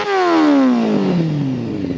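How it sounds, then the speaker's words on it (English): A TVS Apache RR 310 motorcycle engine revs hard and loud, its pitch sweeping steadily downward as it holds one continuous high-revving note for about two seconds with no talk. "let's go ahead, rev those engines,"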